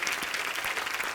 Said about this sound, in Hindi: जोरदार तालियां हो जाए एक बार।